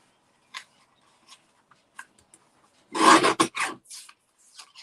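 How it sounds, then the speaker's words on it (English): A small paper guillotine trims a piece of card. A few faint ticks come first, then a short, close rasping slice under a second long, followed by light scraping. "I'm using my little guillotine."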